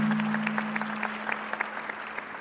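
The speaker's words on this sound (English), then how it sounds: "Can we give a round of applause to Brother Arf?" An audience at a Nation of Islam gathering claps steadily through the whole stretch, moderately loud, with a low steady hum running beneath.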